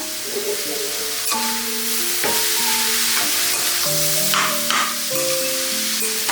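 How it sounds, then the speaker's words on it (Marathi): Grated carrot for gajar halwa sizzles steadily as it is sautéed and stirred in a pan, a continuous close frying hiss with occasional scraping strokes and a soft melodic tone underneath. "छान असं जरासा परतून घ्या, गाजराचा रंग बदलेल।"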